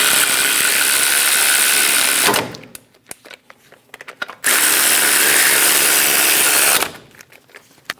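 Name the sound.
ratchet tightening brake caliper pin bolts on Chevrolet Silverado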